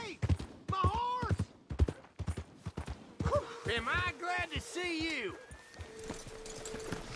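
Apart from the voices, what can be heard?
horse neighing and hooves, video game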